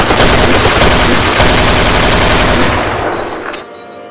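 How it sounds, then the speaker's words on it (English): Sustained rapid gunfire from several soldiers' rifles, including an HK-33, forms a dense, loud roar of overlapping shots that thins into scattered echoing cracks toward the end. "3 soldiers began firing."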